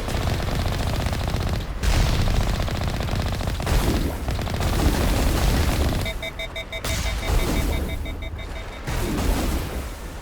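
A heavy anti-material gun fires in Mass Effect, with loud, dense bursts and booming impacts filling the space almost without pause and a brief lull partway through.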